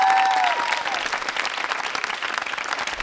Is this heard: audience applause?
yes